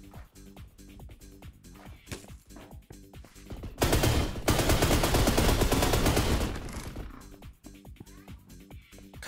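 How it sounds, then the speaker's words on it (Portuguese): Weapon charging up and then firing in the video game Energy Assault: a sustained, loud burst of dense blasts lasting a few seconds, surrounded by quieter clicks and game noise, with a voice talking at times. "O barulho da arma carregando, que legal."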